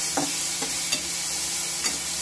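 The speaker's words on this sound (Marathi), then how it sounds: "कढई जास्त गरम आहे ना, मिरच्या भाजल्या" Dry red chillies crackling and sizzling in a very hot, smoking kadhai, with a few soft stirring scrapes at irregular intervals.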